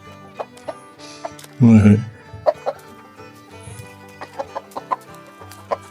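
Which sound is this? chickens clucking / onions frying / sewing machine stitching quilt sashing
chickens clucking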